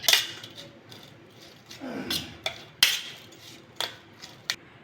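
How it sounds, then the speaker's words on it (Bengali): Raw shrimp is tossed with salt and turmeric in a bowl, giving a quiet wet squish alongside several sharp, close clinks of metal against the bowl that come at irregular intervals. "আমি চিংড়ি মাছটা লবণ আর হলুদ মাখিয়ে নেব।"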